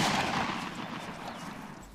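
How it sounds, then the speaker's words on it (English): Enemy gunfire in the Iron Front 1944 combat game, a dense crackle of distant shots rolling on and fading slightly over two seconds, with no talk. "Is that an enemy firing up north?"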